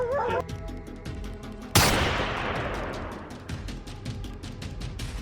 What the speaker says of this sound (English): When the dogs finally signal they've cornered a mountain lion